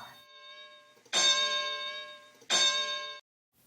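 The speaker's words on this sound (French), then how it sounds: "la cloche va bientôt retentir" A wrestling ring bell signals the start of a match, striking twice with bright metallic clangs that ring out and sustain before cutting off.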